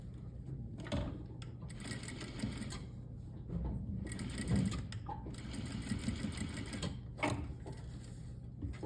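A sewing machine stitches through a quilt top in quick, continuous mechanical runs, broken by short pauses and the occasional sharp knock, heard close up.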